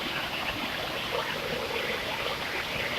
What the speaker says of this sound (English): Here are the waterfalls.